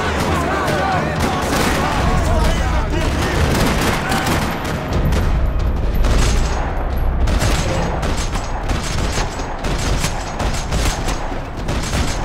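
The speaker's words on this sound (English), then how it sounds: "Another parking lot rattling with gunfire." Sustained bursts of rapid automatic and single gunfire in a parking lot shootout from the video game Max Payne 3, loud and dense with booming impacts, rattling continuously throughout.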